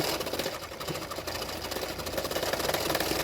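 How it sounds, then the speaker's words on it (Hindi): Sewing machine running steadily as it stitches extra fabric onto a katori blouse, a continuous close mechanical whir with fast needle chatter and no pauses. "तो मैंने एक्स्ट्रा फैब्रिक में मैंने सिलाई कर दिया है।"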